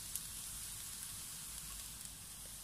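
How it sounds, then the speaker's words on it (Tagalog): Onion and garlic frying in a pan, a steady soft sizzle with faint crackles throughout, fairly quiet and close, no talking. "so medyo nag-brown na ang ating sibuyas at bawang"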